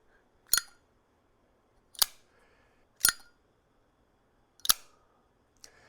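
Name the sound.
lighter lid snapping closed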